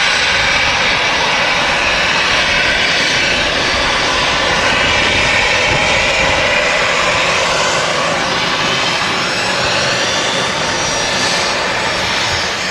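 EasyJet airliner jet engines rolling at Manchester Airport: a loud, continuous roar with a steady high whine that holds for the whole stretch, close and without voices.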